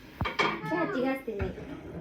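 Dishes, pots and pans clatter and clink as they are washed, several sharp knocks over a running scrub, while a child and an adult talk nearby.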